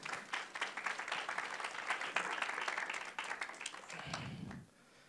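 Congregation in a church breaks into sustained, dense applause that fills nearly five seconds, then cuts off sharply at the end. A low murmur rises briefly just before it stops.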